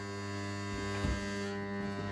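An old SIP stick welder humming when switched on, a steady, close electrical drone with a strong low buzz and layered harmonics, holding constant with a slight flutter and no talk.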